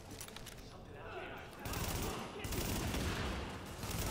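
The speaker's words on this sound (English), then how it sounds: "Oh, this shotgun sucks." Shotgun blasts and surrounding gunfire from the video game The Division, a dense, rattling volley that swells louder partway through, heard without clear talk over it.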